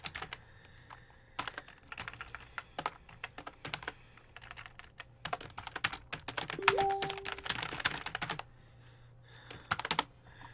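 Quiet, irregular clicks of keys being pressed on a computer keyboard, coming in uneven clusters with short pauses between them.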